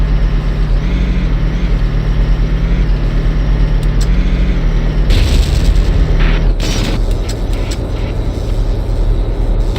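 A tank approaches in the Valkyria Chronicles video game: a loud, steady low engine rumble with mechanical clanking, swelling into a heavier boom and roar partway through, with no voices.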